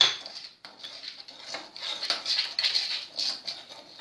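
A spoon scraping and clinking around a bowl as sugar is mixed for mille-feuille, a steady run of light, close scratchy strokes.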